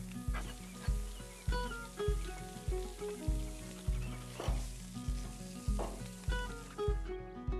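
Sausage with added fat sizzles in oil on a Hasty Bake grill heated to 450 degrees, a steady hiss of frying over a rhythmic pulsing beat underneath.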